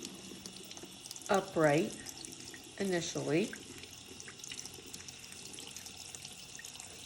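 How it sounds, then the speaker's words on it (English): A kitchen tap runs in two short bursts while etching a stencilled cup, water splashing briefly into a sink with a quiet stretch between, as a voice talks over the first part. "turn on my water"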